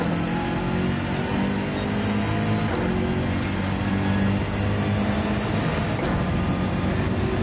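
A race car's engine holds full throttle in Gran Turismo 7, a loud, steady drone that stays constant without letting up.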